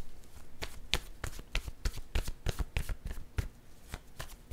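Tarot cards shuffled by hand at close range, a quick run of soft, papery slaps and riffles with an uneven rhythm and no talking over them.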